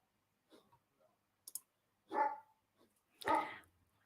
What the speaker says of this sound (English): it's my dog.